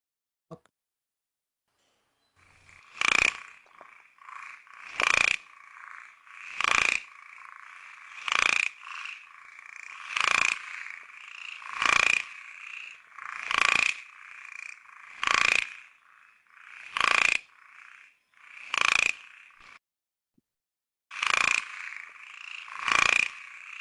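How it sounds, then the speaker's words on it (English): An ornamented pygmy frog calls in a clear, isolated recording, giving about a dozen short croaking bursts at fairly even intervals of roughly one and a half seconds, loud and close against a quiet background. "ornamented pygmy frog."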